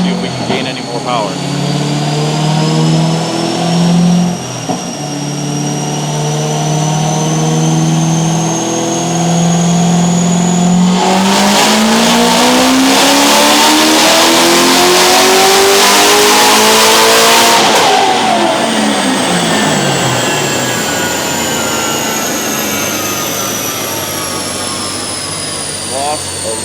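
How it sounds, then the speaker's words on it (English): A Corvette ZR1 engine running on E40 fuel during a dyno pull, loud and close, a sustained rising wail that climbs steadily in pitch to a screaming peak, then drops away as the revs fall, with a whine running throughout. "we're gonna do another E40 pull, see if we can gain any more power"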